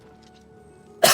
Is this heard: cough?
yes